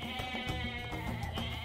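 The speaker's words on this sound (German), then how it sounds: "Ziegen allesamt dahin." Goats bleating in the video game Age of Mythology, giving a short, steady wavering cry against a bed of game music.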